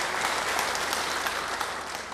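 Church congregation applauding during a sermon about freedom; a short burst of dense, even clapping, moderately distant and steady.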